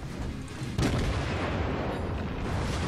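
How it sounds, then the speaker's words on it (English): Naval cannon fire from a Hashidate-class cruiser in World of Warships booms over a dense, continuous roar of battle, with one sharp blast standing out early in the sustained rumble. "we're actually taking some fire"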